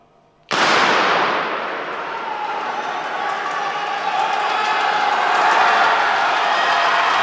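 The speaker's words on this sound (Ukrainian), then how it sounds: "ви чуєте, які овації тут?" A crowd in an indoor athletics arena at the Ukrainian championship bursts into a sudden, loud ovation after a 60 m race, sustained cheering and applause that stays strong throughout.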